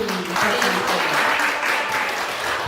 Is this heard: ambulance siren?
no